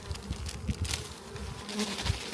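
Close, steady buzzing of honeybees swarming around an opened hive, a dense droning hum with individual bees passing near.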